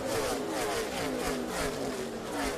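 A damaged NASCAR stock car engine drones continuously at a distance, a steady, fairly faint roar as the car rolls on after contact, with a soft crowd or commentary wash behind it.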